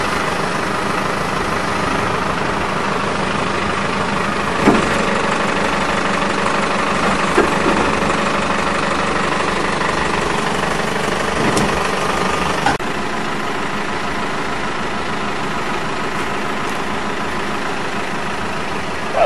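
A Chevrolet Astro van engine idles steadily while the van is eased forward into position, a constant low rumble held close throughout with a few faint clunks and no talking.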